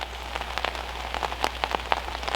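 Rain patters on an umbrella in a garden during a storm, a dense close drumming with irregular louder drops striking the fabric, no talking.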